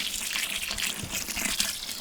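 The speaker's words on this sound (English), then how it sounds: "go turn the water on" Water gushes steadily from a tap, a continuous hissing splash at close range with no pauses.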